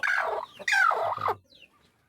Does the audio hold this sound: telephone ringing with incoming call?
no